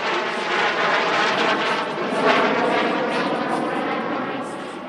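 A PZL TS-11 Iskra jet trainer flies over at an airshow in Radom, its engine a sustained, loud roaring whine that swells slightly at mid-pass and then eases off, with no talk over it.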